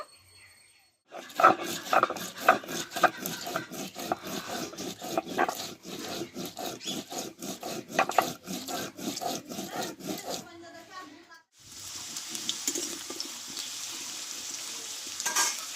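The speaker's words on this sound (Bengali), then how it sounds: "এইটা আমি শিলনোড়াতে বেটে নেব" Onion, ginger, green chilli and cumin are ground on a stone slab grinder in a fast, even series of rough rubbing strokes, close and fairly loud. A pause follows, then a steady hiss takes over.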